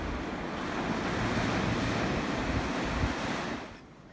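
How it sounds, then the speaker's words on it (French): Ocean waves breaking on the shore near Port-au-Prince, a loud continuous rushing surf with wind buffeting the microphone, swelling steadily before dropping away sharply at the end. "Le bruit des vagues ne vous gêne pas?"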